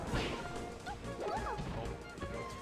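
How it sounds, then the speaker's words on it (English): A Peach smash attack lands in Super Smash Bros. Melee, a sharp crash-like hit followed by brief game sounds and swishing effects over a short, fairly busy stretch. "Okay, interesting charge up smash."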